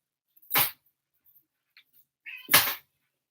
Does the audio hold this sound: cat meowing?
yes